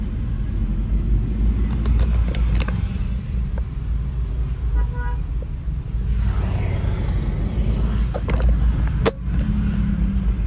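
Congested city street traffic in Makassar, with motorcycles and cars crossing at a busy junction, makes a continuous rumble of engines, a few horn-like tones and passing vehicles nearby, with no talk.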